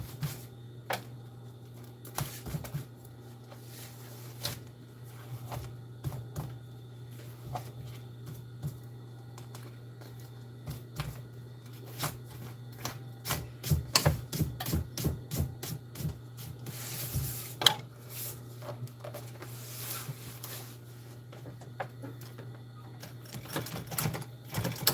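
A sewing machine stitches the bottom seam of a bag, heard as intermittent rapid mechanical clatter bursts over a steady low motor hum, busiest in the middle stretch.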